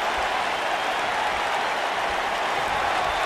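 Arena crowd noise from the WWE 2K19 video game during a Stomping Grounds simulation match, a dense steady roar of applause and cheering that holds at one loud level throughout.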